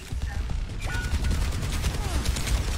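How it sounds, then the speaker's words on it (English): Automated turret fire in Overwatch, a dense, rapid burst of shots rattling on continuously at close range, loud throughout, with a voice briefly heard over it. "Oh, the turret, the turrets."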